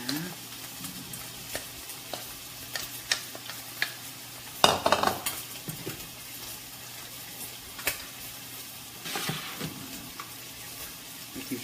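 Ingredients stirred in a hot pan, a soft ongoing sizzle with repeated scraping and clinking of a utensil against the pan, one louder scrape near the middle and a few light knocks, no speech.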